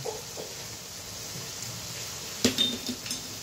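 Turmeric, Kashmiri chilli powder and sugar are stirred into foli fish in a pan, producing quiet scraping and a few sharp metallic clinks of a utensil against the pan late on, with no voices.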